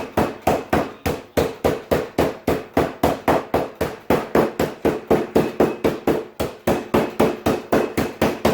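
Pork tenderloin pounded flat inside a bag, a fast steady run of loud close thuds, roughly three per second, repeating without pause and with no voices.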